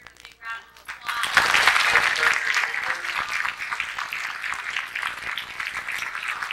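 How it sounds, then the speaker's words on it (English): A crowd at a backyard christening show breaks into applause, rising after a quiet start into sustained clapping that continues evenly, with some voices mixed in. "I think they deserve a big round of applause"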